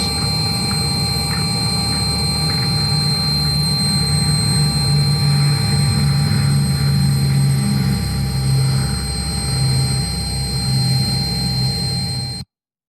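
The engines of a B-17G bomber drone steadily in flight, a continuous loud hum with layered tones that runs unbroken before cutting off abruptly.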